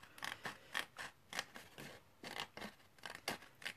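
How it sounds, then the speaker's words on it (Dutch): Scissors cut through a paper card with a steady series of about a dozen crisp snips in an even rhythm, close and clear, with no talking. "Dan knip je een halve centimeter langs die kaart."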